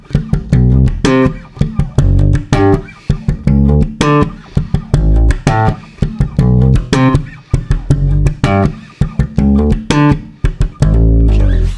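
A slap bass riff is played in strict time, with two ghost notes between each root: loud, punchy low thumps and snapping pops in a steady, bouncy groove that fills the whole stretch, with no talking.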